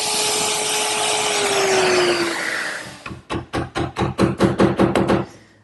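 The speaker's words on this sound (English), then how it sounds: "I'm using a 1/2-inch bit in my router" A router fitted with a 1/2-inch bit whines steadily at high speed while cutting mortises in wood, then slows and gives way to a run of loud, rhythmic bursts, close and unaccompanied by talk.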